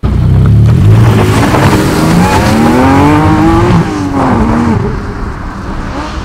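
A 2020 Porsche Boxster GTS with its 4.0-litre six-cylinder engine, loud and close as it revs and accelerates, the pitch climbing through a gear before easing off, with tyre and road noise underneath.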